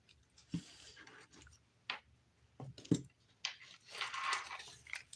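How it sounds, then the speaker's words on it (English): A plastic bag crinkles during DIY abstract glitter dip-powder nail work: scattered soft rustles and sharp crackles in short bursts, close and fairly quiet, with a longer crinkling stretch near the end and no talking. "Plastic bag again."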